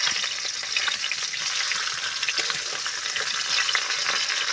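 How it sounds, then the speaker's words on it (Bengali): A large fish head fries in hot oil and is flipped over, giving a steady, dense sizzle and crackle close by, with light scraping from the turning and no talk. "মাছের মাথাটা এক সাইড হয়ে গেছে, আর এক সাইড আমি এইভাবে উল্টে ভেজে নেব।"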